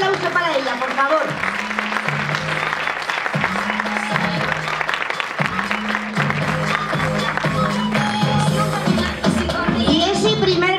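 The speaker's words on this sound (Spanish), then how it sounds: "Otro aplauso para ella, por favor." An audience at a women's council event applauds a photography prize winner, steady clapping under sustained music tones, with some voices and crowd shuffle mixed in.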